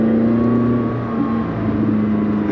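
A McLaren 600LT sports car engine heard from the cabin, a loud, steady droning tone with a slight rise and dip in pitch, no voices over it.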